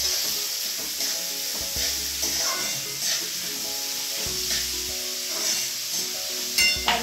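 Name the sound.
onion frying for baby prawn masala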